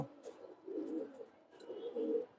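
Pigeons in a Bengali fancier's loft, of silver, beji and pankhi breeds, give low, soft cooing in two swelling phrases, near and steady, with no talk over them.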